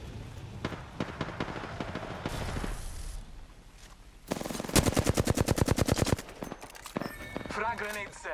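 Rapid bursts of automatic gunfire in a combat video game, a long rattling volley dominating the middle with scattered single shots before, voices and game sounds mixed in.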